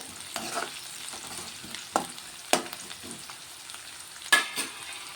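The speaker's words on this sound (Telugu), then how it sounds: "కొంచెం ఈ ఉల్లిగడ్డలు అయితే కొంచెం నూనెలో ఫ్రై కావాలి" Chopped onions and green chillies fry in oil in a pan, giving a continuous close sizzle with a few sharp stirring scrapes and clicks of a utensil against the pan.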